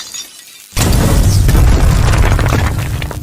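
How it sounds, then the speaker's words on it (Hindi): A loud explosion effect for a blown fuse bursts in abruptly after a quiet moment, then holds as a dense, roaring rumble that slowly fades without dying away. "फ्यूज उड़ा दिया।"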